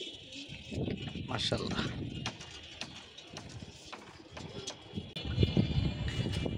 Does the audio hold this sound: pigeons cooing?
yes